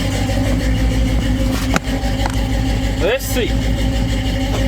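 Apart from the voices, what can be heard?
1983 Chevrolet C10 truck with small-block 350 engine shifting into reverse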